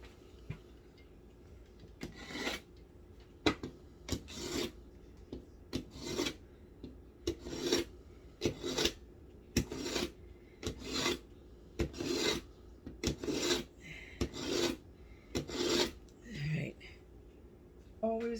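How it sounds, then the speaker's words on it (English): A kitchen knife being sharpened gives about fifteen rhythmic rasping strokes, each a short, bright scrape, repeated at a steady pace close up with quiet gaps between them. "Let me give this knife another quick sharpen"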